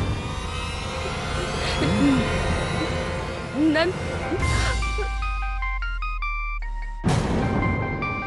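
After a stretch of talking over background music, a phone's melodic electronic ringtone plays for about two seconds, then voices return.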